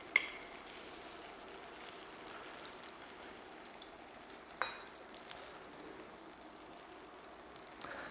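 Saganaki cheese frying in oil in a pan gives a faint, even, steady sizzle, with a couple of soft clicks as the pan is moved and no voices.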